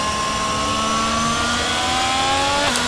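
F1 race car engine from the F1 22 game on the final lap at the Dutch Grand Prix, Netherlands, a loud continuous high-revving cockpit whine holding steady, then a sharp gear shift dropping the pitch near the end.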